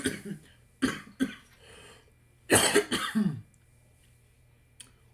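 Several sharp coughs come in short bursts, close up, with a pause, then a heavier cluster of coughing and throat clearing before quiet returns.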